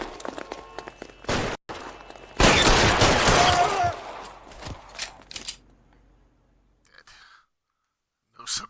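Gunfire in the crime video game L.A. Noire arrives as a dense burst of shots and impacts amid game noise, with voices heard around it, then fades into near silence.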